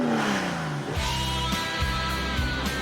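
Cosworth-derived V12 car engine starting via starter button, firing up with a loud rising roar and then settling into a deep, steady idle with a few revs, no voices.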